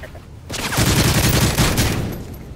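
A machine pistol in a Search and Destroy video game match fires a loud, rapid burst that rattles for about two seconds before fading, with no talk over it.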